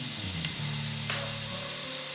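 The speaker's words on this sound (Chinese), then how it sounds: "先把姜末爆香" Minced ginger frying in hot oil before cucumber goes in, a continuous loud sizzle with a faint hiss throughout, close and alone.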